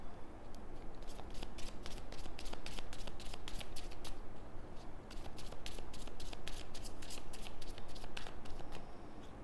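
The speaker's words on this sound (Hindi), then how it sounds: "ये इस डेक में से भी हम एक कार्ड निकालते हैं" A tarot deck is shuffled steadily and a card is drawn, producing continuous close riffling and slapping card sounds with dense rapid clicks throughout, with no talking.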